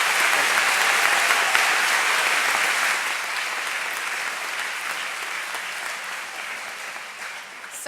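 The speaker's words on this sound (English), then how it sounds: "Please give these well-deserving students a round of applause." An audience at a high school honors ceremony claps for students, a loud, sustained round of applause filling a hall that eases slightly in intensity over about eight seconds.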